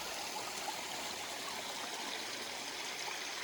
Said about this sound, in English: nice water source, flowing really well, coming from top of the mountain